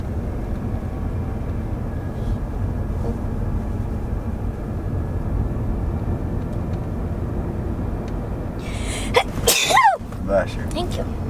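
A single sharp sneeze bursts out near the end over the steady low rumble of a vehicle interior in traffic.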